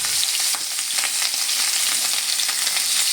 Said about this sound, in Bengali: তেলের মধ্যে মাছটা আমি এক এক করে দিয়ে দিচ্ছি।